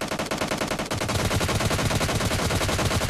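Rapid, dense gunfire fills PUBG Lite gameplay, a continuous burst of close, loud shots that keeps going almost without a break.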